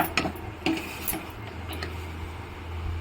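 A spoon scrapes and knocks against a pot while ragi flour sangati is stirred, giving a few sharp clinks and taps over a low steady hum, with no talking.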